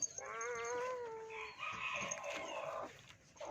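A rooster crows once nearby, with softer clucking from chickens and chicks in a breeding cage following in the quiet background.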